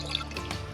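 Fuel drips while being poured from a jerry can outdoors in Botswana, a short patter of quick drops over a low steady hum, close by, with no talk.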